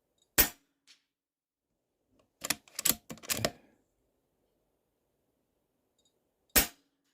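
A Stoeger XM1 PCP air rifle fires outdoors in sharp, dry cracks: one shot, a quick cluster of several clacks of cycling and firing, then a final shot after a pause, each isolated against silence.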